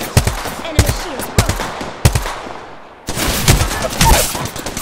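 Video game gunfire in bursts of loud, close shots, several quick volleys over the first three seconds and then a denser, continuous stretch of rapid fire.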